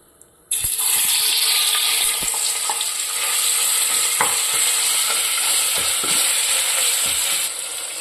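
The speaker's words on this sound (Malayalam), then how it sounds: "ഇത് ആ വെളിച്ചെണ്ണക്കകത്ത് നമുക്ക് ഈ ചെമ്മീൻ ഒന്ന് വറുത്തെടുക്കാം" Loud, continuous hiss of shrimp frying in hot coconut oil in a pressure cooker, bursting in suddenly after a quiet start and sizzling steadily with occasional pops.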